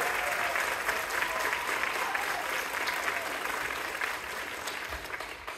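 Steady, dense applause from a school concert audience honoring the youth jazz orchestra members, a broad continuous clatter of many hands filling the hall for the full stretch, with no voices breaking through.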